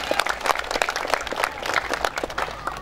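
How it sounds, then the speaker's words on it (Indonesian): Applause at an Indonesian Gerindra party ceremony marking the 75th Independence Day, as a provincial legislator is introduced; dense, steady clapping from a crowd, fairly loud and continuous throughout. "Tepuk tangan Bu Tia"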